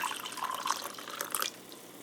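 Water poured into a mug holding grape Gatorade Zero Sugar mix, a steady close splashing trickle that thins out toward the end, with no talk.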